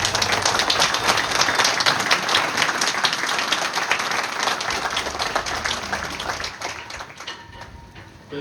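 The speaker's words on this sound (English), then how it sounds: "Let's give all of these retirees and their families one more round of applause." Sustained, loud applause from a large audience at an Army retirement ceremony, dense clapping filling the space for several seconds before thinning out toward the end.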